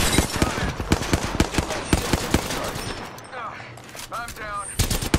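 Rapid gunfire in the video game Apex Legends, with a fast string of sharp bursts and single shots close by. The shooting thins out midway and then returns in a short final volley.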